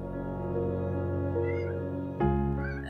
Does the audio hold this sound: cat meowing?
yes